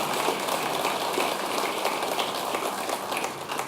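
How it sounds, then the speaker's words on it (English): Audience at a men's breakfast gives a round of applause, dense steady clapping from a crowded room filling the whole stretch at a constant level. "If we can just give Andrew a round of applause"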